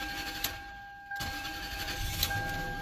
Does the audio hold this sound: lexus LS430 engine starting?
yes